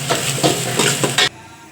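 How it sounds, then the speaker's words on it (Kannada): Onion and green chillies fry lightly in oil for boti gojju, a loud sizzle broken by four rhythmic stirring scrapes before the sound cuts off abruptly. "ಇಷ್ಟು ಐಟಮ್ ಈರುಳ್ಳಿ ಮತ್ತು ಮೆಣಸಿಕಾಯಿನ ಫ್ರೈ ಮಾಡ್ಕೊಳ್ಳೋಣ ಎಣ್ಣೆಯಲ್ಲಿ ಲೈಟಾಗಿ"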